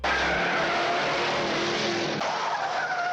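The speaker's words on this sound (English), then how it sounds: "One of the most noticeable changes is the iconic screeching tire sound effect." A Pontiac Trans Am chase scene: a loud, sustained tire screech, piercing and continuous for about three seconds with a slight break partway through.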